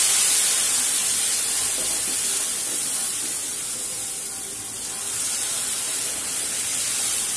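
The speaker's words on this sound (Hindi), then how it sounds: "अब हम इसमें धीरे धीरे से दूध डालेंगे।" Milk poured slowly into a pan of plumped raisins over a low flame gives a steady, close hiss and sizzle that rises and dips gently for several seconds, with no talking.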